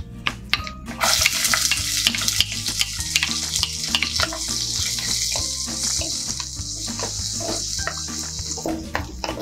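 Small onions, garlic cloves and green chili fry in a pan, crackling in a steady close sizzle broken by repeated scraping and clinking stirring strokes, with no talking.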